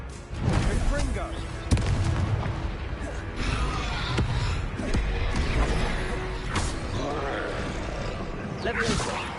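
Confringo fire spell cast in the Hogwarts Legacy video game, sharp blasts and whooshing fiery bursts amid a loud, chaotic combat mix of roars and impacts, with shouting voices throughout.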